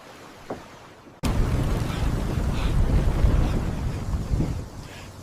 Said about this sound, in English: The wind moves in weird ways today.